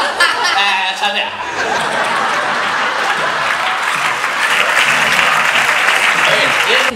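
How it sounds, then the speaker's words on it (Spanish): A theatre audience at a comedy show at the Teatro Capitol bursts into loud, sustained applause mixed with chuckles and laughter, filling the room continuously. "un fuerte aplauso para ellos"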